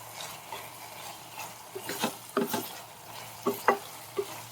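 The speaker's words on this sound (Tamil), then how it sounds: "சரி கிண்டி விட்டுருவோம்" Cluster beans thokku stirred in a pan, quiet scraping and knocking strokes over a low sizzle, coming in irregular bursts.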